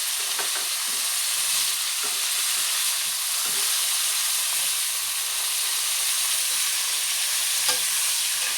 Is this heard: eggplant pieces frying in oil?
yes